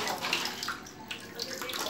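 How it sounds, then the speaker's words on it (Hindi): Water is poured into a homemade funnel-topped siphon pipe, a steady close rushing splash running throughout at low level. "यहाँ पर हम पानी भर दिया है।"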